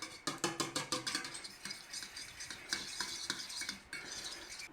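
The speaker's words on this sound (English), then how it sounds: "we'll take a little fork and we'll give it a little mix just to help it on its way" A small fork stirs powdered gelatin into water in a bowl while fondant icing is being made, giving quick rhythmic clinks and scrapes against the bowl that start brisk and then settle into softer, uneven stirring.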